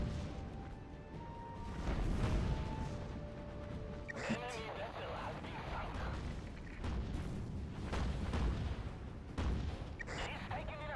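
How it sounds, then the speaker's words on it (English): Naval gun artillery fire and heavy impacts from Battlestations: Pacific, booming bursts recurring through a noisy battle mix, with voices talking over it. "Artillery."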